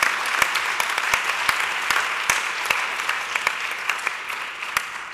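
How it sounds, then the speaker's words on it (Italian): Sparse, scattered clapping from a small audience for a guest named Kevin, individual hand claps ringing out irregularly and fairly quietly across about five seconds. "quindi gli è giusto fargli un applauso"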